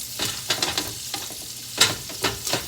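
Pre-seasoned sausage mix browning in a pan, with a soft steady sizzle broken by a few sharp scraping stirs and clinks, close and fairly quiet, no voices.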